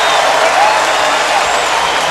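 A loud home crowd at a USC college basketball game against UCLA in 2008 roars with steady cheering and applause, a dense wash of noise that holds throughout with no break.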